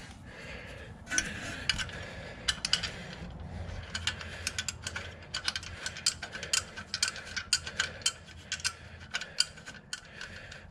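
Ratchet tightens a 5/16 bolt and nut during a Jeep Gladiator lift kit install, giving a close series of quick rhythmic clicks in short bursts, fairly quiet with no voices.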